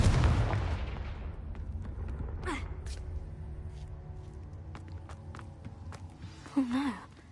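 Confringo spell blast in a Harry Potter video game: a loud burst at the start fading into a rumbling tail, then scattered smaller cracks and a whooshing effect near the end, with no talking.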